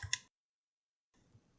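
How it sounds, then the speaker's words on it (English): A computer mouse gives a quick, crisp double click, two close taps heard very near and faint. A short quiet gap follows, then a softer click. "Gonna go ahead and double click."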